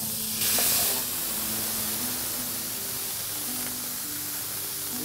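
Cheddar cheese melting on a frying burger patty, giving a steady broadband sizzle close up with a brief louder hiss near the start, no talking.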